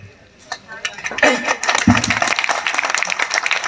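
Audience applause at a social meeting during a Jamera Badadeo puja gathering, scattered claps that build into fuller clapping from the crowd, with a voice speaking over it.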